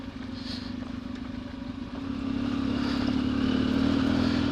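Off-road trail motorcycle in first gear engine braking down a stony descent in the Ardennes, a steady low engine drone that grows slightly louder and fuller midway, with light clatter of rocks and gravel throughout.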